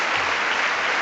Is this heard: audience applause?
yes